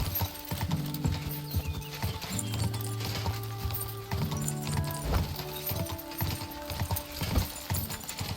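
Horse hooves clip-clop steadily at a walking pace in the medieval game Kingdom Come Deliverance II, close and continuous across the stretch, with tonal game music or ambience layered underneath.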